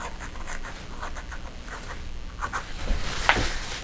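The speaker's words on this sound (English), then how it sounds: "the brush is giving me these nice edges that are really, you can tell it's dry paper." A watercolor brush drags across dry paper in a string of soft, scratchy strokes, close and quiet. Light handling noises follow near the end.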